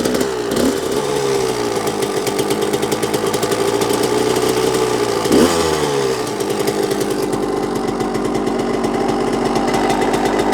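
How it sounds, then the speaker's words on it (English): A Suzuki RM125 two-stroke dirt bike engine idles loudly and steadily, a little high, its rapid rattling putter holding a fairly high pitch, with a couple of brief throttle blips. "It's idling. It's a little high."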